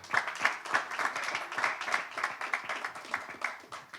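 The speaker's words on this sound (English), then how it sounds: "Big round of applause for Tejas Mahajan." Scattered hand clapping from a small audience at a sports press conference for a pickleball player, quick distinct claps in an uneven rhythm, fairly close and moderately quiet, without cheering.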